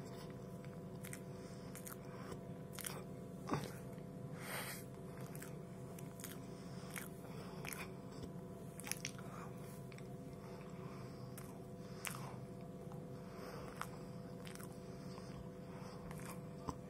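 Someone bites and chews a cream dessert close up, a series of soft wet crunches and squishes at an uneven rhythm over a steady low hum.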